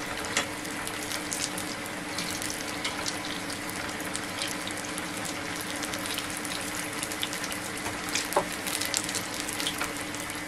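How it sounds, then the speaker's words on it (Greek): Food fries steadily in hot oil, a continuous dense sizzle with crackling pops running for the whole stretch, close and fairly loud with no talking. "Τώρα που έχει ζεσταθεί το λάδι, τηγανίζονται και πιο γρήγορα."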